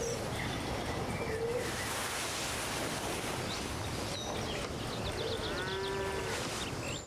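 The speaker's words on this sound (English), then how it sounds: "Is that a cow?" A cow moos in a film scene, a drawn-out low call rising near the end of the clip over steady background ambience, with faint bird coos nearby.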